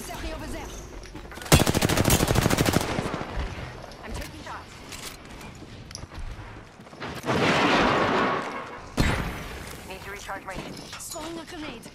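Automatic gunfire bursts in the Apex Legends battle royale, a loud sustained volley near the start, another heavy stretch midway and further shots later, with a player talking over the combat.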